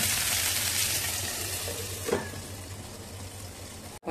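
Eggplant pieces frying in a pan for Maharashtrian vangyachi rassa bhaji, a steady close sizzle running throughout, with a brief stir or shift of the pieces near the middle and a sudden cut just before the end.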